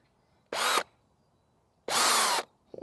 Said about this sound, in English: He was drilling it out and not putting it in.